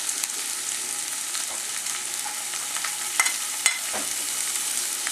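Sliced onion and ginger sauté in hot oil in a pan for an egg kurma, a soft continuous sizzle with a few sharper clicks of a spoon stirring, close and alone.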